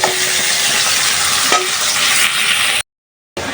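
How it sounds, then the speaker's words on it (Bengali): Spice paste of turmeric, chilli, coriander and cumin powders with garlic paste sautéing in hot oil, a loud, dense, continuous sizzle with a few stirring knocks, then a sudden brief gap of silence before the frying resumes. "এখন মশলাটাও ভালোভাবে কষায় নিতেছি হলুদ মরিচ ধনিয়ার গুঁড়া জিরার গুঁড়া সব কিছু দিয়ে রসুন বাটা"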